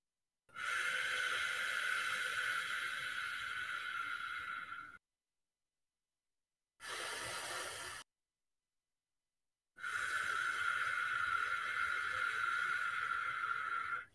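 Slow, deep breathing during a breathwork session: a long airy inhale, a short breath, then another long drawn breath, each separated by silence and heard close up.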